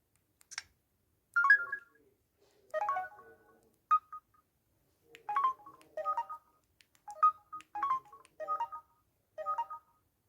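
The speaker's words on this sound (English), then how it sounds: "I like this keypad sound too." Keypad tones from a mobile phone sound as a series of short, clean beeps in irregular clusters, fairly faint and alone.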